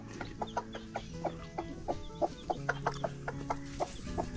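A hen clucks with her three chicks on a farm, a close run of short, repeated clucks and peeps in an uneven rhythm.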